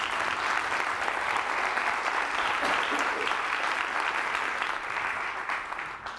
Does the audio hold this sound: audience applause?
yes